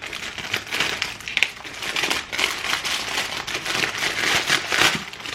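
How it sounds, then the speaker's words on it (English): Sellotape being pulled and peeled off a cardboard cookie box package, with close crinkly tearing and crackling in uneven bursts. "There's some sellotape on there which is just killing me off."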